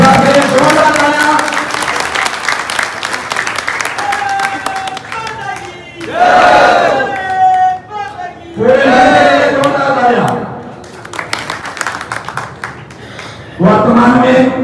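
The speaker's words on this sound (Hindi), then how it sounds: "एक बार मेरे साथ जोरदार तालियां।" Loud applause from a crowd at a political rally welcoming an MLA, swelling bursts of clapping and cheering that rise and fall in waves, interleaved with someone speaking loudly over a microphone.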